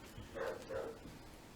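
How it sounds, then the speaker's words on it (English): A dog barks twice in quick succession, muffled and some distance away, with no talking over it. "there's a dog outside barking"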